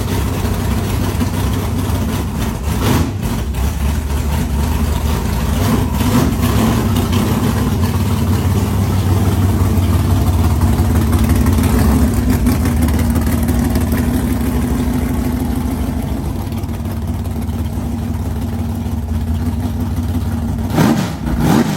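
A 1968 Chevrolet Camaro drag car with a 496 cubic inch big-block engine runs loud and close, a heavy low rumble rising and falling through revs and idle, with no voices.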